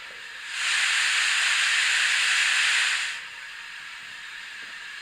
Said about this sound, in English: And number 3 is cylinder drain cocks.